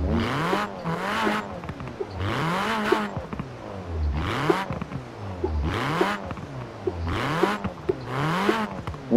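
A car engine in the racing game Forza Horizon 4 revs repeatedly in steady rising and falling surges, fairly loud and continuous, with no speech over it.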